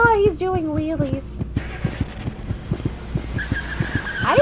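A car in a video game skidding while popping wheelies, rhythmic tire squeal and bumping thuds repeating steadily, close and loud, with a brief voice early on and engine tones over the top.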